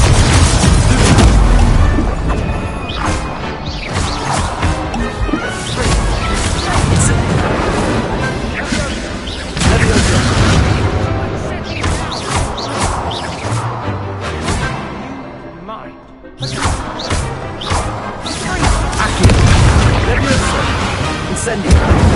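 Spell duelling in Hogwarts Legacy, with the Expelliarmus disarming charm cast amid repeated loud booming impacts, crashes and bursts over dense game music and voices shouting spell names.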